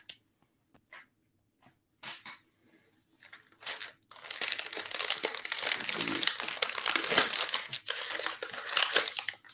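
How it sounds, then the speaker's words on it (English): Crinkly Mylar sleeve on a slabbed comic book, first handled in a few short, sparse crackles, then crumpled steadily and closely for several seconds in dense, bright rustling. "Mylar is crinkly"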